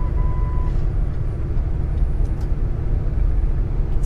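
A Swift semi truck runs alongside on the highway, a steady low engine and road rumble droning continuously as heard from inside a vehicle.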